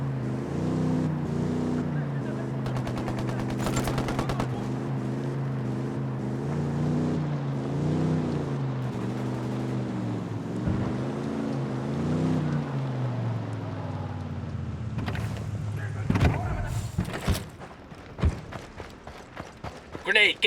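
A vehicle engine in the video game Ghost Recon Wildlands hums and revs steadily as it drives, its pitch rising and falling, then gives way to sharp bangs and impacts near the end.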